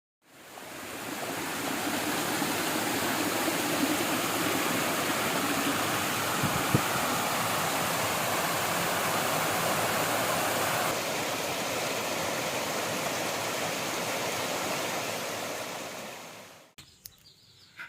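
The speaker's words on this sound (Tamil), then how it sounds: "நடுவில் இருக்குங்க இந்த சந்தன அருவி" Santhana waterfall in the Kolli Hills roars as a steady, broadband rush of falling water, loud and unbroken for most of the stretch before it fades out abruptly at the end.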